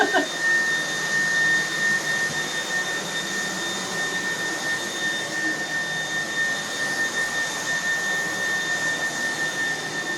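A battery-powered stick vacuum, MOOSOO or Dreametech, runs at high power with a steady, close whooshing roar topped by a thin high whine. The sound is continuous and fairly loud, and no voice is heard.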